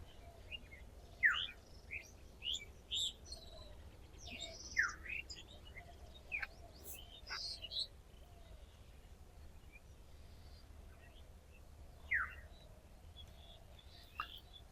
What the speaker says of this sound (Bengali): পাখির ডাকগুলো একটু শুনেন